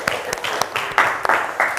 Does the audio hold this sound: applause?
yes